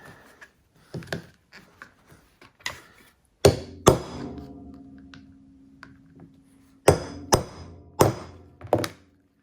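Hammer striking a rivet setter on a leather tool pouch rivet, sharp metallic thunks in clusters of two or three separated by quieter taps and pauses, close and loud.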